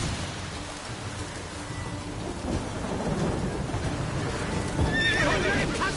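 Roach, a horse in the video game Witcher 3, gives a whinny near the end over steady rain, rolling thunder and hoofbeats, fairly loud and with no talking.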